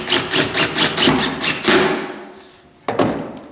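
Self-piercing coarse-thread roofing screw with rubber gasket and metal washer driven into an egg hutch roof, a rapid rattling burst of repeated impacts for about two seconds, then a pause and one short sharp bump, close and loud.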